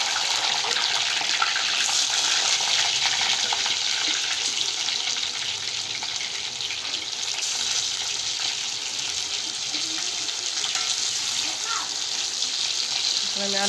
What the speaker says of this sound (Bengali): আমি আলুটা ভেজে নেব একটু।